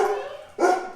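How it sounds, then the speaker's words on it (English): A dog barks twice indoors during a cooking class, two short, loud, close barks with a brief pause between them. "I'm gonna let the doggy calm down."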